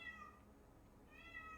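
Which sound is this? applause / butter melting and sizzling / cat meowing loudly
cat meowing loudly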